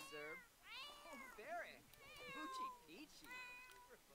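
Several cats meow in The Sims 4, a run of short, rising and falling mews close up, one after another, with a voice talking among them.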